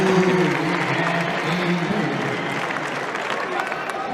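A crowd at a Big 12 men's college wrestling championship cheers and claps after a lopsided win, a steady roar running under someone commentator's voice.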